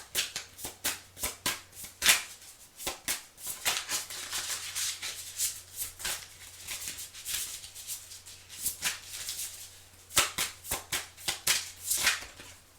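Tarot cards shuffled by hand at close range for a reading, a quiet run of quick riffling flutters and soft slaps repeating irregularly throughout, with no talking.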